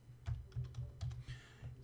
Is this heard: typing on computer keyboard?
yes